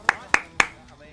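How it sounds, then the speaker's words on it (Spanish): Three sharp hand claps, evenly spaced and close, ring out during a Rainbow Six Siege gaming session, followed by a brief quiet tail. "Se aplaude."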